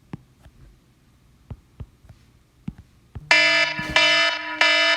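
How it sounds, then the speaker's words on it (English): A morning alarm goes off abruptly with loud, rapid repeated electronic beeping bursts, cutting in after a few faint clicks and taps in a quiet room; no one speaks. "that's my morning alarm"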